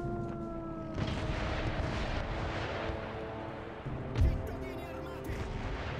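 Distant artillery bombardment in the historical strategy game Empire Total War, a continuous rumbling battle din of cannon fire and booms with one heavier thump near the end, blended with game music and a voice.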